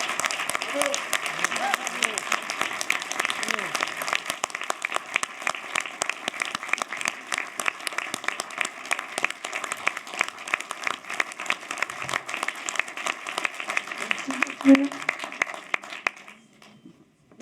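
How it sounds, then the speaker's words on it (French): A cinema audience at a film premiere claps warmly and steadily for about sixteen seconds, a dense, even applause that fades out at the end. "Merci beaucoup pour ces chaleureux applaudissements."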